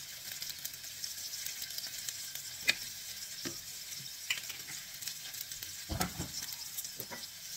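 A spatula scrapes and clacks against a pan as cauliflower fried rice with pork is stir-fried. Bursts of stirring rise over a low, continuous sizzle, with a few sharper knocks near the end.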